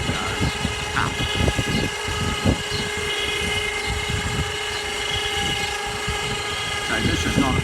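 Electric kayak lifter on a Fiat Ducato campervan raising a 10–12 foot kayak, a steady mechanical motor whine with tonal hum and light knocks, while someone talks over it.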